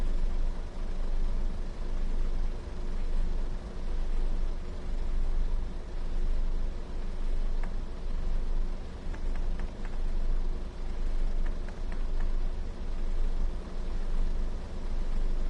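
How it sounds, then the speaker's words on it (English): A train engine idles in Train Sim World 5 on the Ormskirk to Carlisle route, a steady low diesel rumble pulsing gently in even waves with faint clicks, no talking. "I can hear the engine idling."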